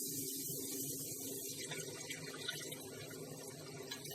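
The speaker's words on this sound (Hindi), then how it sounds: "तो मैं अब ग्रेवी के लिए पानी डाल रही हूँ" Water poured into spicy soya chaap curry masala made with tomato and onion to form a gravy, a faint continuous splashing stream lasting a few seconds in a quiet kitchen.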